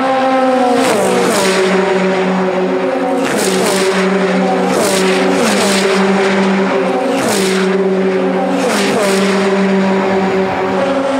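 Formula 3 single-seaters race downhill toward Eau Rouge at Spa-Francorchamps, loud screaming engines passing one after another in a nose-to-tail stream, pitch dropping with each shift and pass, continuous and close.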